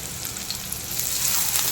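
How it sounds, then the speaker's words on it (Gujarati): Chopped onion hisses steadily in hot oil while being lightly sautéed in a pan with cumin and garlic, a close, even sizzle that grows slightly louder toward the end. "ડુંગળીને પણ આપણે હલકી એવી સાતળી લેવાની છે"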